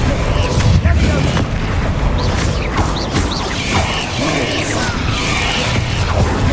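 A Bombarda explosion spell going off in the video game Hogwarts Legacy, heavy booming blasts and crashing debris layered with clanking mechanical noise, loud and dense throughout, with a voice talking over the action.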